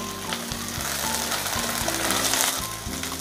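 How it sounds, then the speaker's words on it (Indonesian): Lemongrass, galangal and bay leaves sauté in a pan with a steady close sizzle, broken by rhythmic scraping and clinking of a utensil stirring against the pan. "Saya tumis-tumis lagi sampai semua bahan aromatik ini juga mengeluarkan aroma yang harum."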